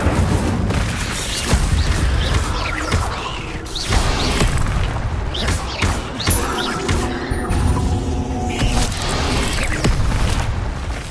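Incendio fire spell blasts in Hogwarts Legacy, loud repeated booming bursts and crackling impacts amid a chaotic fight against spiders, dense and close throughout with no speech.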